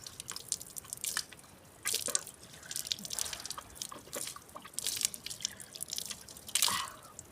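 Water runs through a large irrigation channel on a village hillside in the Konkan, sounding as close, irregular splashes and bright drips that surge and fade in bursts.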